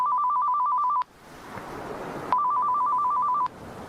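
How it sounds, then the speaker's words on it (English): A telephone trills in two electronic bursts of rapid warbling rings separated by a short quiet gap, sounding close and clear with nobody speaking. "For the love of evil, someone get the phone!"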